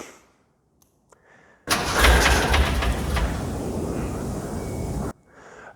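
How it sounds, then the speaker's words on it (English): After a short quiet stretch, a Datsun 280Z engine with a fault cranks and roars into life, running loudly for about three seconds before cutting off abruptly. "run it for a couple of literally 2 or 3 rotations of the engine, just enough for it to start up"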